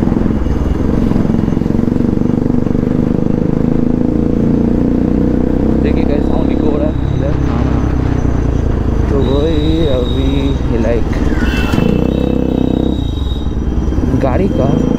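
An NS 200 motorcycle fitted with an Akrapovic exhaust rumbles loud and close, a steady deep engine drone with some rising revs, echoing between nearby buildings while someone talks over it.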